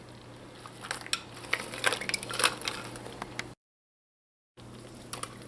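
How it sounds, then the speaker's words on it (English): Crab being stirred into callaloo in a pot, with scattered clinks and wet scraping knocks over a low hum, then a second of silence before quiet sound returns. "You just want to mix the crab into the callaloo"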